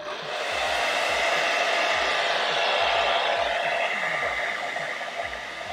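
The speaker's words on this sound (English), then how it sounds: "what I even can do is use a blow dryer and low heat." A blow dryer on low heat drying a wig, a steady loud whooshing hiss that ramps up quickly and holds constant, with faint background tones underneath.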